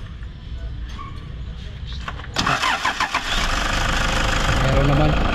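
Toyota Fortuner with a check engine light cranks and fires up in a workshop, the engine catching midway and settling into a steady idle, with people talking nearby.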